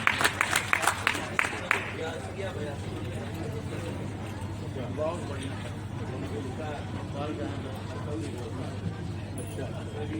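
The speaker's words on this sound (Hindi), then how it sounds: "देखिए सबके में बहुत अच्छी तालियां बजा रहे हैं।" An audience at a poetry event on a book fair's cultural stage applauds, sharp claps at the start settling into a steady, moderately loud patter with murmuring voices underneath.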